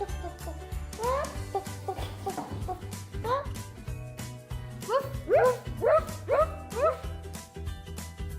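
Dogs bark and yip while chickens cluck over a steady musical backing, the animal calls coming in busy bursts.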